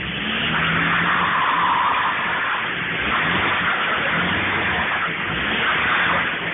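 A Jeep driving with a loud, steady engine and tire roar that swells and eases throughout, close up and continuous with no talk.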